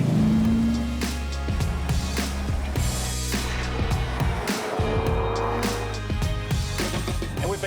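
A 2022 Volkswagen Amarok W580 pickup driving fast on an open road, with steady, loud engine and road roar, wind and tyre noise that rises and falls slightly.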